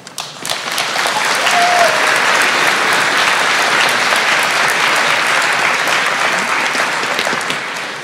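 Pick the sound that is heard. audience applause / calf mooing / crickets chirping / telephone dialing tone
audience applause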